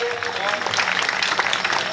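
An audience at a Hindi poetry recital claps steadily throughout, a dense wash of applause with a voice faintly audible underneath.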